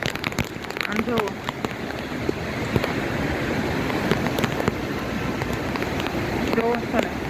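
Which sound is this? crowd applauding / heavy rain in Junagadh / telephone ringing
heavy rain in Junagadh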